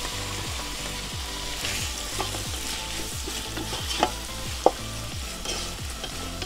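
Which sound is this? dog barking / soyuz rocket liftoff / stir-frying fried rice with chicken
stir-frying fried rice with chicken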